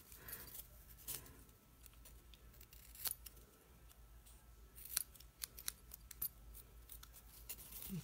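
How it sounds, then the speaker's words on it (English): Sharp snips cut through paper for a snowflake ornament: a run of quick, crisp close-up snips, some sharper than others, over a quiet background. "I just kind of flip them and do each one just with my nice sharp snips"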